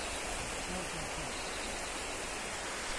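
A river rushes beside a farm field in Konkan, giving a steady, broadband watery hiss that stays constant and fairly close throughout, with no clear voices.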